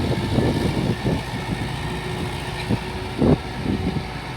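A tractor engine idles at a tractor market in Talwandi Sabo, a low steady rumble with a few heavier thumps and surges as the machine is checked. It sits at a moderate distance and no voices are heard.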